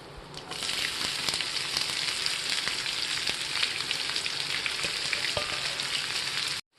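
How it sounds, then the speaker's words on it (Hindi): Finely chopped onions fry in oil in a pan for egg curry, making a steady, even crackling sizzle with scattered small pops that cuts off abruptly at the end. "इस प्याज को थोड़ी देर पकने देंगे हम"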